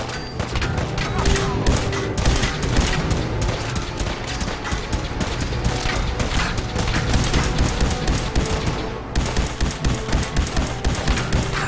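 Rapid, continuous automatic gunfire in Fallout 4 crackles loudly in dense bursts with a brief lull near the end, while a player talks over it.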